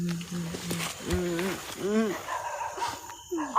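A dog barks loudly at night during a tense ghost-hunting outing, with a few sharp arched barks in a row cutting through steady background noise and people talking nearby.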